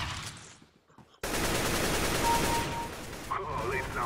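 Rapid automatic gunfire during bot practice in a first-person shooter game, a dense continuous burst of shots starting abruptly after a brief quiet moment and running loud to the end, with faint game effects layered in.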